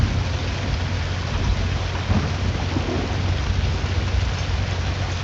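Steady heavy rain and rolling thunder from a storm in the storm-chasing video game Twisted, a dense, continuous roar that stays loud throughout with low rumbling underneath and no voices.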